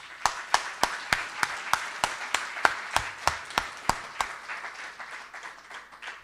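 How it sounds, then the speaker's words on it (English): An audience at the launch of a medicinal cannabis cultivation facility claps in steady, evenly spaced unison beats, about fifteen crisp claps over a soft crowd murmur that fade slightly toward the end. "I'd like us to all please give a hearty round of applause for where we are."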